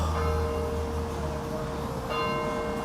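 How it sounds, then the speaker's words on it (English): Church bells ring out at noon in Warrington, their steady tolling tones sounding from a distance over a broad outdoor wash of town noise, with a fresh strike landing near the end. "12 o'clock in Warrington means the bells"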